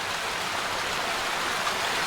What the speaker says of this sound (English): the cascades and waterfalls just continue